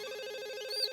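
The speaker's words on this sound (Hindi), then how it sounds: "एक मिनट, फोन।" A telephone rings in a scene from the Hindi sitcom Taarak Mehta Ka Ooltah Chashmah, a steady electronic trill pulsing in quick, even bursts, close and clear with no talking over it.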